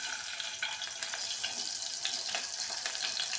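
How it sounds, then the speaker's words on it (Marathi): Finely chopped onion hits a spoonful of hot oil in a pressure cooker for mutton curry, giving a steady, bright sizzle with small crackles throughout, close and moderately loud with no talking. "आपण तेल टाकून घेऊया. एक चम्मच मी तेल टाकले. आता एक कांदा बारीक चिरल्याला टाकून घेतो."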